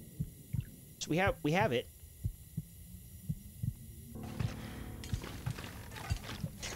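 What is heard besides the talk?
heartbeat sound effect in The Long Dark video game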